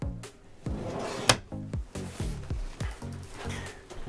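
Wooden-front storage drawers beneath the bed of a 2024 Keystone Outback OBX 17BH travel trailer, slid open and shut several times in quick succession, each with a hollow thump and one sharper knock.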